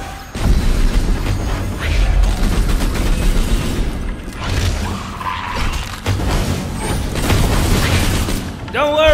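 A grenade explodes in Borderlands amid a loud, chaotic firefight, with heavy booms and rapid gunfire layered over rumbling action and a character's shout near the close.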